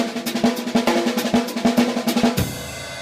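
A drum lesson groove: a steady pulse with an accented phrase played in triplets over it, with sharp, evenly spaced hits ringing over a sustained low tone, ending in a brief wash of cymbal noise. Close and loud, no talking.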